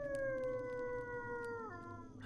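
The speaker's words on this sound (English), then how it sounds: "the dogs howl when they spawn" Dogs spawning in a Unity horror game let out a single long, drawn-out howl, clear and steady at first, then dropping in pitch and fading toward the end, with no talk.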